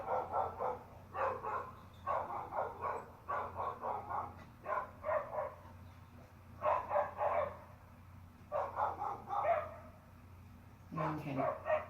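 A small, excitable pet dog barks in repeated short bursts of yips nearby, in uneven clusters with brief pauses, ending in a whine.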